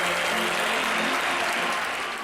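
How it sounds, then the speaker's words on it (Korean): Sustained, dense applause from the crowd at a bullring in Andalusia, Spain, after a bullfight, steady and broad, slowly easing off toward the end. "목숨을 걸고 최선을 다한 황소와 투우사 모두에게 진심 어린 박수갈채가 끊이지"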